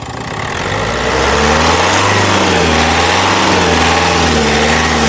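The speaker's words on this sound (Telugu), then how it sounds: "ఇంజన్ యొక్క నాయిస్ చాలా అంటే చాలా పర్ఫెక్ట్గా అయితే ఉందండి" A 2017 Renault Duster RXS with the 110 PS engine runs in a steady, loud, close drone, holding an even tone with a slight rise in pitch after the first second, with no speech.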